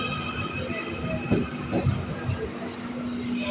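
Merseyrail electric train pulling out of Liverpool Central's underground platform, a steady rumble and hum with faint wheel clatter and a few soft thumps, fairly close and continuous.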